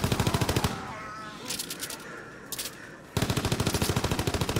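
Rapid automatic bursts from an MG15 machine gun in a zombies shooter game, loud and evenly rhythmic, opening with a short volley, pausing briefly amid scattered game noise, then resuming in a longer sustained stream.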